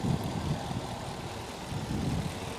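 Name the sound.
Mercedes C63 AMG 6.2 litre V8 engine with Milltek decats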